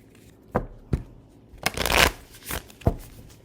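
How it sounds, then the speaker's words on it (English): Tarot cards are shuffled by hand up close: a few quick riffles and soft slaps, one longer flurry in the middle, no talking. "Do a quick shuffle."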